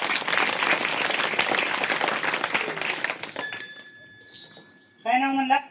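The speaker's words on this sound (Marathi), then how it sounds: "तुमच्या टापोटात दुखतं, वाजवा की टाळी जोरात." A crowd at a comic Potraj folk performance claps loudly and steadily for a few seconds. The clapping fades, a light glassy clink rings out, and a voice begins speaking near the end.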